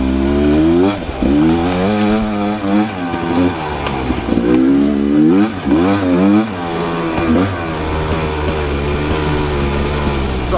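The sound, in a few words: Rieju Ranger motorcycle riding in second gear on sand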